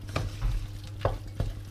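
Egg being stirred in a frying pan while potatoes cook, a quiet low sizzle broken by three distinct scraping strokes of a utensil, close by, with no voices.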